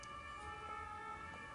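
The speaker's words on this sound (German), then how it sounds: "Moment, Sirene." A faint, distant siren holds a steady wailing tone against a quiet background hum.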